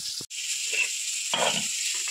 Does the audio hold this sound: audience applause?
no